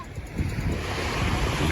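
Ocean waves wash onto a beach at Colwyn Bay or Llandudno as a broad, continuous surf roar mixed with heavy wind buffeting the microphone, loud and close, with no voices.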